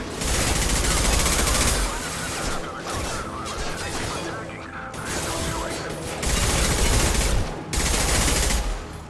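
Heavy sustained gunfire in the video game Mass Effect 2 during Jacob and Samara's loyalty missions: loud bursts of automatic fire with brief lulls, mixed with clanking impacts and faint voices.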